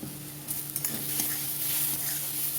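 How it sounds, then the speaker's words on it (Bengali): Food with slit green chillies, salt and turmeric sizzles steadily in a pan, with a few soft scrapes and knocks from stirring over the continuous frying hiss. "সব দিয়ে দিয়েছি। এবার নাড়তে হবে শুধু।"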